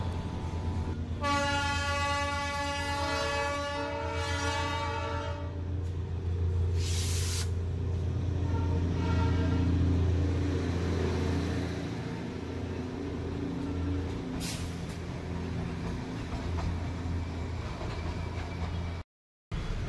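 The Darjeeling toy train sounds a long, loud horn, then its rumble and hiss carry on steadily nearby, with no talking.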